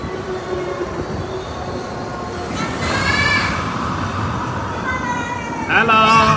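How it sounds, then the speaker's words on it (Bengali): Resort ride train running with passengers aboard, a continuous rolling rumble of wheels on track with brief metallic squeals, close and steady, louder near the end. "হচ্ছে কি আমরা ট্রেনে বসছি,"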